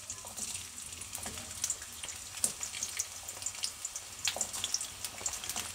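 Onions fry in hot oil for a cauliflower Manchurian, a faint crackling sizzle with scattered pops and spits throughout, quiet and steady.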